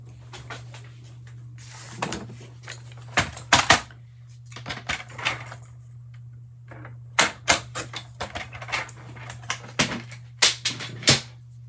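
A paper trimmer cuts a piece of paper for a papercraft card, a series of close, sharp clicks and snaps in irregular clusters over a low steady hum.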